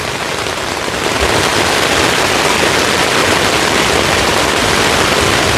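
A dense, steady downpour drums on thin tent fabric overhead during a lightning storm at Mousetail Landing State Park, loud and continuous with no voices.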